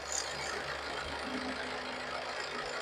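Steady mechanical droning hum of a rice mill running nearby, constant and unbroken throughout.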